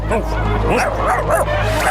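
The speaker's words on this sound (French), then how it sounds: "Allez, les chiens, venez là." Cartoon dogs from a children's animated series bark and yip in quick bursts, several voices overlapping close up over a steady background score.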